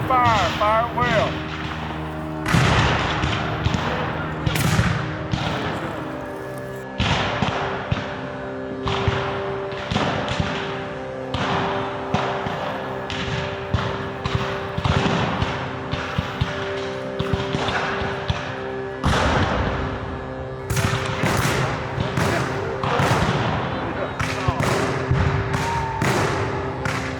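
Musket volleys crack out irregularly across a Civil War battle reenactment on Sherman's march through the Carolinas, repeated sharp bangs layered over continuous shouted commands and talk.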